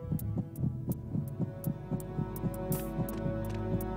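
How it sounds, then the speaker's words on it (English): Game heartbeat effect in Metal Gear Solid 2: a steady, rhythmic low double thump repeating about twice a second over a constant background hum, with no talking. "Oh, settle down, heartbeat."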